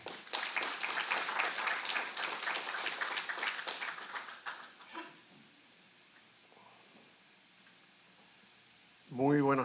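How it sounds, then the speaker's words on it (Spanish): A conference audience at an international political communication congress bursts into sustained applause for about five seconds, then the hall falls quiet with faint room noise before a voice begins. "Por favor, permítame recibir con fuertes palmas"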